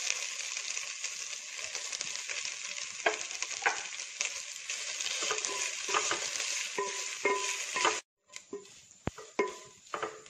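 Drumstick leaves thoran is stirred in a frying pan, a continuous close sizzle with repeated scraping and tapping of the spoon against the pan, briefly pausing near the end before stirring resumes.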